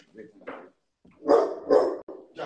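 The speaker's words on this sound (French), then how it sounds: "Il aboie parce qu'il a peur des animaux." A pet dog barks at animals on a television, giving a few short, loud barks that rise and fall around bursts of household voices.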